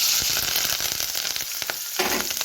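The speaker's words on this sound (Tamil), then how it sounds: "இப்போ இதெல்லாம் நல்லா கலந்துக்கிட்டு வதக்கி விட்டுக்கலாம்" Sliced large onion, green chillies and curry leaves fry in hot oil with a dense, steady crackling sizzle and a few spatula scrapes, loud and close with no voices.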